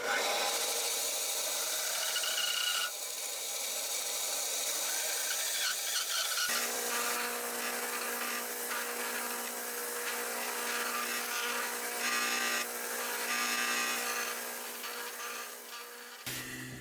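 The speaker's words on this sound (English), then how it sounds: "then we'll use the belt sander to finely tune the ends here" Belt sander truing the ends of a wooden dish, a continuous close whir with rasping as the wood is pressed against the belt, changing in tone partway through.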